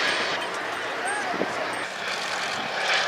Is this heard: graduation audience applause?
no